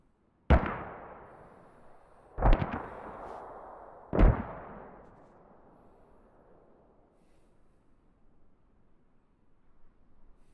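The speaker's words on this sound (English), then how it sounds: "Mortars inbound." Three mortar rounds explode in the video game SquadOps, each a heavy boom with a long rumbling decay, spaced about two seconds apart, with no talk.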